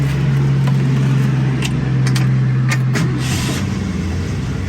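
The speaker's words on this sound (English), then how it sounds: "I just like to listen to the sound of the engine" A 1966 Ford Mustang coupe engine runs loud and close with a steady low hum and rumble, while faint clicks and brief rattles sound over the top.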